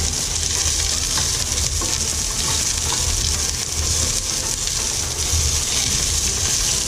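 Onion sautéing in a pan for Bicol-style kansi, a loud, continuous broad sizzle with faint stirring scrapes, heard up close throughout.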